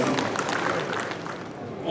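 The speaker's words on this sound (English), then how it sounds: "a round of applause for you, please." Audience at an APC southwest zone general assembly clapping for President Bola Ahmed Tinubu, a loud sustained wash of applause with crowd noise and voices mixed in, fading slightly before swelling again.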